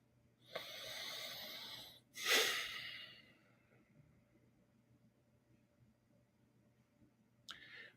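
Two slow, deep breaths during a meditation, a long inhale followed by a fuller exhale, close and fairly soft against a quiet room, then near silence and a short final breath sound.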